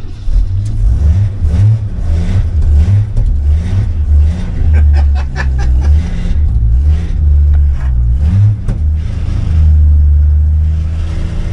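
A 1976 AMC Pacer's engine roars and revs hard near the car, refusing to idle below 2,000 RPM, with repeated rising and falling throttle surges and a deep, loud rumble throughout.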